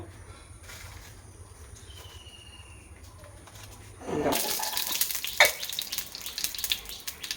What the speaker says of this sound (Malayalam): കടുക് നന്നായി പൊട്ടിയതിന് ശേഷം